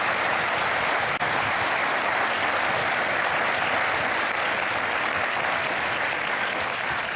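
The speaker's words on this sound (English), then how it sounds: "please join me in giving them another huge round of applause" A crowd at the SAMCEDA Innovators 2019 event gives a big round of applause. The clapping is dense, even and loud, holding steady from start to finish with no voices above it.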